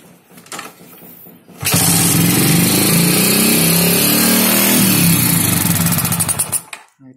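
A Yamaha Jupiter Z motorcycle engine, carburetor being tuned, revs up loudly and holds at a high steady RPM for about five seconds before dropping off, preceded by a quieter idle.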